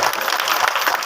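An audience breaks into brief, dense clapping, close and fairly loud for about a second.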